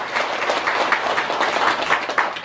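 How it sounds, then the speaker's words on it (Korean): An audience applauds after a lecture, dense steady clapping from many hands that fills the whole moment at an even, fairly loud level. "박수"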